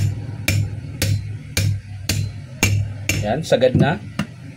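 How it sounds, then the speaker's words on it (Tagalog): Sharp metallic hammer blows tapping a part into a DeWalt DWE8200S 4-inch grinder, about eight evenly spaced close strikes, with brief speech toward the end. "Tapos pukpukin nyo lang dito dahan-dahan."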